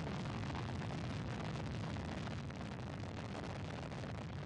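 A Soyuz FG rocket lifts off from Kazakhstan carrying a crew to the International Space Station, its engines making a continuous, dense, rumbling roar that fills the sound alone and stays loud and even throughout.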